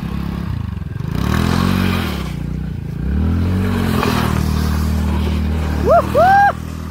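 A TVS Ntorq scooter engine revs up and down in repeated rising and falling sweeps on a hill trek ride to Tungareshwar, loud and close, ending with a brief high whine.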